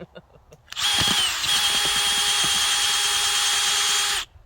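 A power drill digging into soil whirs steadily for several seconds at close range, grinding with a slight dip in pitch as it bites, then stops abruptly.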